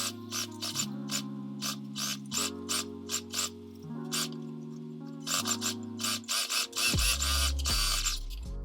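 A sewing machine stitches the two shorts legs together along the crotch curve, close and steady, with a rapid ratcheting needle rhythm that pauses and restarts as the fabric is turned, rising in speed near the end.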